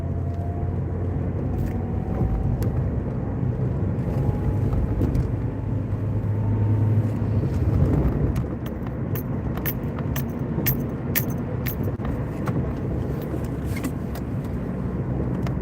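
A car engine runs with a steady low rumble and hum, joined later by sharp jangling clicks like keys, heard close and without talk.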